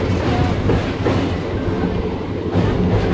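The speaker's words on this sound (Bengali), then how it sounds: "এই দেখো আমাদের ট্রেন এখন কোলাঘাট ব্রিজের উপর উঠলো।" A Howrah to Digha local train crosses the Kolaghat rail bridge, heard from inside the carriage as a loud, steady rumble with rhythmic clatter from the wheels and no talk.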